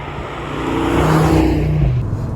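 An Audi RS3 pulls along a road, its engine note swelling loudly and close as it accelerates, then a gear change drops the drone before it settles into a steady cruise.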